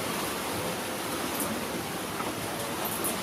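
Ocean waves at night outside a chalet on Savai'i, Samoa, roar as a dense, constant wash of surf with no distinct breaks, loud and unbroken throughout, with no voices.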